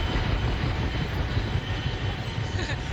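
A helicopter gives off a dense, steady roar of engine and rotor noise that fills the whole clip, loud and close with no break, and a faint voice may sit underneath.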